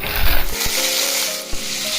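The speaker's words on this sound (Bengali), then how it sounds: "কড়াই তেল দিয়ে দিয়েছি, তেল গরম হয়ে গেছে। এবার আমি সিদ্ধ করা আলুগুলোকে ছেড়ে দেবো।" Boiled potatoes drop into hot oil in a kadai with garlic and green chillies nearby. A loud burst of sizzling follows, then a steady hiss of frying broken by a couple of sharp utensil knocks.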